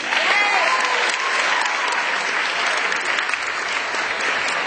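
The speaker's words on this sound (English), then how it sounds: "So clap for yourselves." An audience at a Cambridge event claps steadily and fairly loudly for the full stretch, a dense, even wash of applause with no voices over it.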